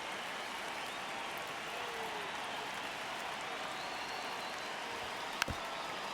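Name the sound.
crowd cheering in video game MLB The Show 26, Colorado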